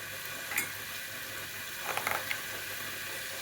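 A soft, steady sizzle of onions frying in oil, with a few faint clicks and stirring scrapes.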